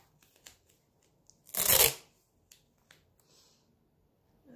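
Tape pulled off a roll while making a junk journal from a repurposed hardback book: a single close, rasping tear about half a second long, with faint small taps and handling noises around it.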